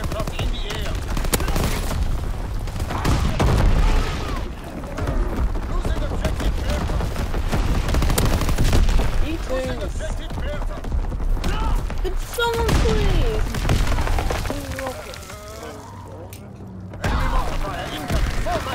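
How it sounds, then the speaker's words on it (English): Battle noise from Call of Duty WWII keeps up for the whole stretch, with incoming enemy artillery and bursts of gunfire and explosions. Game voices call out over the dense, continuous din. "Incoming enemy artillery."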